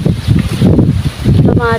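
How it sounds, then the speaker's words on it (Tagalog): Wind gusts across a home garden of tomato and chili plants, a steady broadband rush with a voice speaking over it throughout. "Mahangin na naman."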